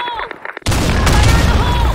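A grenade goes off in a first-person shooter on the Office map, a sudden loud close blast after a short stretch of quieter sounds, followed by a dense rumbling roar that continues to the end.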